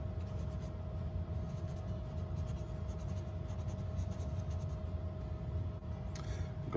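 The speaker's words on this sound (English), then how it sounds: "You can kind of feel when it starts drying out, it gets a little more scratchy." A dip pen loaded with Waterman ink scratches across paper in wide strokes, a steady, close, continuous rasp that turns grittier as the nib dries out, with no talking.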